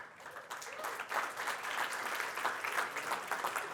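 Polite applause from a modest crowd at a conference closing plenary, steady clapping throughout with no voices standing out.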